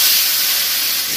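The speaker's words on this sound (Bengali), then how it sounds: "এবারে আমি এই শুটকি মাছগুলি ওর মধ্যে দিয়ে দেবো" Dried fish hitting hot mustard oil in a wok gives a loud, steady broadband hiss of sizzling that holds evenly for about a second with no talk over it.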